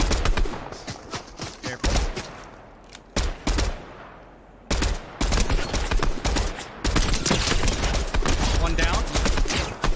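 Rapid bursts of automatic gunfire crackle in a battle royale shooter, loud and close, coming in dense volleys separated by short pauses, with brief voice chat over the shots.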